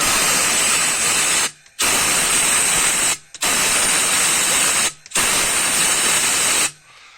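A spray gun blasts petrol through the turbo channel of a Fiat Scudo 1.9 TD in four long, loud hissing bursts of near-equal length, separated by brief pauses, with no talking.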